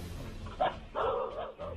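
Guard dogs in a backyard give a few short barks and yips at moderate distance over a low background rumble, with faint voices mixed in.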